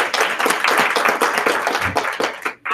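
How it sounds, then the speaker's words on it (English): A school district meeting audience claps in a dense, continuous burst of many hands, loud and close throughout, then breaks off abruptly at the end. "give yourselves a round of applause"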